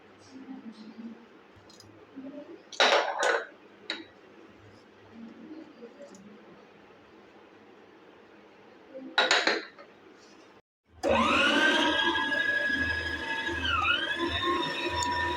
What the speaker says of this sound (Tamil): எல்லாத்தையும் போட்டு நல்லா மிக்ஸ் பண்ணணும்.